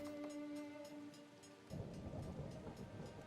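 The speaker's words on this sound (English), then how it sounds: "Oh no, rain!" Rain and rumbling thunder in a video game: a low rolling roar swells in partway through and continues as a dense, moderate wash over faint background music.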